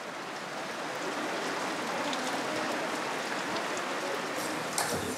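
Steady rain falls on an outdoor festival stage, a dense even hiss of drops with no voices, close and continuous.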